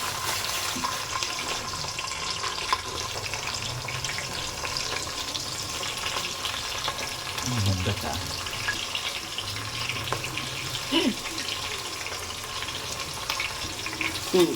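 Food frying in a pan in a home kitchen before onions are added, a steady soft sizzle running throughout with faint clinks, at low level and without talk.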